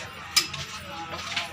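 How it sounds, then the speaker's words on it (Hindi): Dishes and utensils being washed, giving a few sharp metallic clinks and light clatters spread over a moment, close by, with faint background voices. "जल्दी बर्तन धो के धर"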